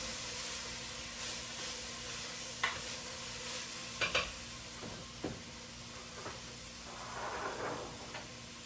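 A spoon scrapes and clinks around a pot of lentil soup seasoned with red pepper flakes, salt and pepper, giving a few sharp knocks amid a soft stirring swish and faint simmer, close and without talk.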